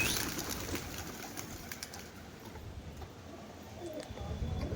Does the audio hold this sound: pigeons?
yes